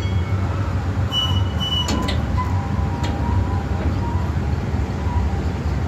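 A train rumbles steadily along the rails, with faint metallic squeals and brief clicks of the wheels as it slows.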